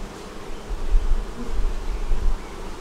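A dense swarm of honeybees buzzes around a crowded, overflowing hive whose top box is full, a steady low droning hum close by with no talk.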